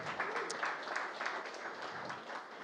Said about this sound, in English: How about another round of applause for Eric and CloseOutdoor?